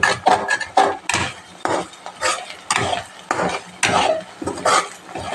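Coconut frying in a pan is stirred with repeated scraping and clattering strokes of a utensil against the pan, rhythmic and close, over a faint sizzle.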